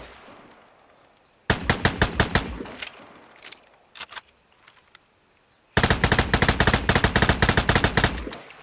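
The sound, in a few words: tap firing gun in video game Vigor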